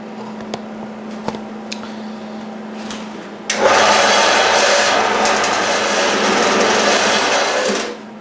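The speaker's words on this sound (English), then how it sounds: "you're just going to make these straight cuts into here, and I'll show you on the bandsaw here" A bandsaw cuts relief slots into a cast aluminum part. Faint hum and a few clicks come first, then a loud, harsh, steady cutting whine runs for about four seconds before dying away.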